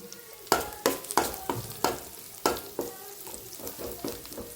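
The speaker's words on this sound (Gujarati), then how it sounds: "તેલ છે તો લીમડો એડ કરી દઈએ" Curry leaves hit hot oil in a pan while farali handvo is cooked, giving a soft sizzle broken by a series of sharp, uneven clanks from stirring, close and fairly quiet.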